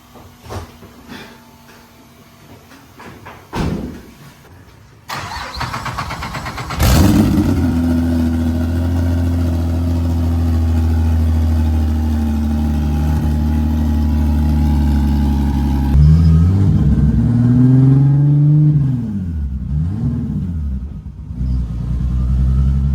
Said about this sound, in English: I'll roll it out. We're gonna do a cold start.